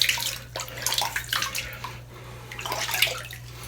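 Tap water runs steadily for a hot towel before a shave, a continuous close splashing hiss with slight surges, no talk.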